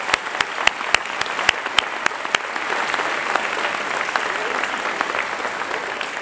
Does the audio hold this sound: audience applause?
yes